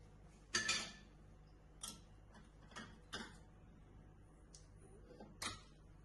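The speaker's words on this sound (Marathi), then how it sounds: "हे बघा, कुकरचा भांडा बाहेर काढूया." Inner metal pot of a cooled pressure cooker, used to cook matki sprouts, is lifted out, making a handful of sharp, faint metallic clinks and knocks spaced apart in a quiet kitchen.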